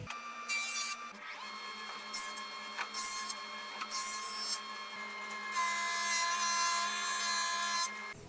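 A jointer and thickness planer machining a wooden board for a chest, a steady high mechanical whine with a humming drone beneath, swelling and easing as the wood feeds through.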